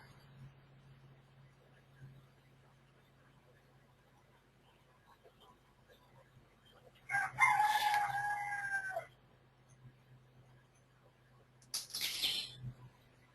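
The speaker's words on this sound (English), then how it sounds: "He has roosters on his farm, and it's morning time where he's at, so they're just getting awake." Roosters on a farm crow in the morning, two loud, separate calls well apart, the first long and the second shorter, over an otherwise quiet background with a low steady hum.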